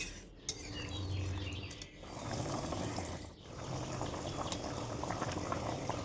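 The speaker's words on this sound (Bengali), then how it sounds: "এবার গরম জলটা দিয়ে দিলাম।" Hot water poured into a simmering curry of spice paste for matar paneer, giving a steady liquid wash and bubbling hiss over pan clatter, loud and close throughout with brief dips.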